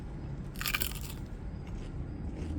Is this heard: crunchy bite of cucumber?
yes